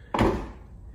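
A Lexus RC F coupe door swings shut with a single solid thunk, close and fairly loud, followed by a short fading resonance in a quiet indoor space.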